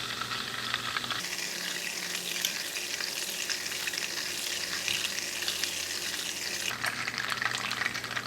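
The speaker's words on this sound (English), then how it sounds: "So we're going to let it sizzle here for a while. Because we're not looking for burnt butter, we're looking for browned butter." Butter browning in a pan for cookie batter gives a steady, dense sizzle and crackle that holds throughout, with a brief shift in tone near the start and again toward the end.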